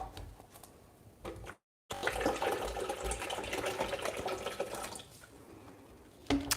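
Water pours and trickles into the plastic water tank of a Breville Barista Pro espresso machine, a steady close splashing flow that runs for several seconds after a brief silent gap.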